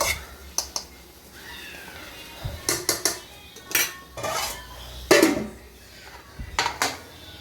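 A child's lunch being served onto a plate at home, with repeated sharp clinks and scrapes of spoon and utensils against dishes close up, arriving in quick clusters over a quiet room.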